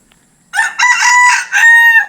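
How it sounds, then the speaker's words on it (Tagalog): A rooster crows loudly and close by, one long drawn-out call breaking in after a brief quiet moment. "Ayan yung manok Boss Jason, oh."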